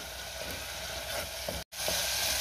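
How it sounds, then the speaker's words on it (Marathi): Ginger-garlic spice paste fries in hot oil for a chicken soup, giving a steady close sizzle with faint stirring scrapes and one brief cut to silence near the end; no one speaks. "तेल सुटेपर्यंत आपल्याला हे वाटण चांगलं परतून घ्यायचंय।"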